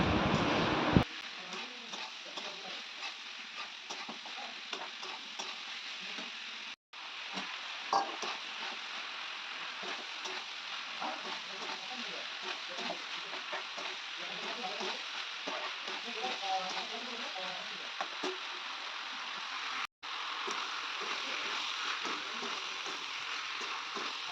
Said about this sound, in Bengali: এই দেখুন সবগুলো একসাথে ভালোভাবে একটু ভেজে নেব